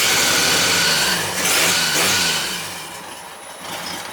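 An old, oil-burning, cold-blooded engine on the Project HEEP vehicle idles roughly with the choke closed. The close, throaty rumble swells briefly and then sags lower and uneven, as if it is barely staying running.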